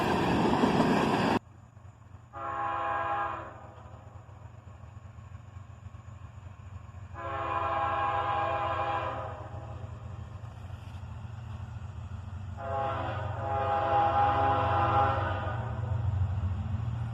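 A northbound tanker train led by a pair of AC-44CW locomotives passes a gas station with a low engine rumble, while the horn sounds in three separate long blasts, the last one the longest.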